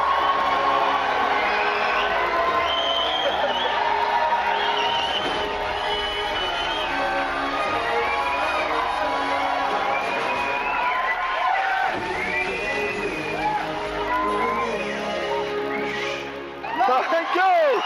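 A studio audience on a Kannada TV talk show rises for a standing ovation, clapping and cheering loudly and continuously while whoops ring out and voices chatter through the crowd.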